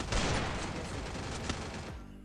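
A dense, loud burst of rapid gunfire from a shooter video game, close and continuous, cutting off sharply at the end.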